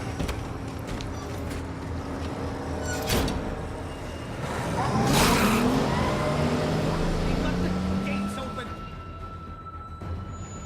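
A car engine idles and then revs up in The Walking Dead video game, a steady motor hum that swells in the middle and settles again, with voices talking over it.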